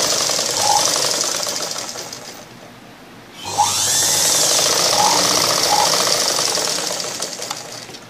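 A sewing machine stitching the front panel of a blouse runs in a steady, close, loud whir. It pauses briefly about midway, then starts up again and continues.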